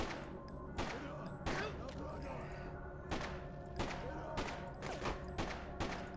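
Heavy weapon fire in the Freedom Fighters video game, a subway tunnel fight: loud booming shots at irregular intervals, roughly eight or nine thuds with echoing tails.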